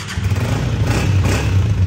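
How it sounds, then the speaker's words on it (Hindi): A 2023 Honda 125 special edition motorcycle catches on its electric self-start and settles into a loud, close, steady idle with a low thumping exhaust. "देखें आप पहले सेल्फ पे ये बाइक स्टार्ट हो जाती है"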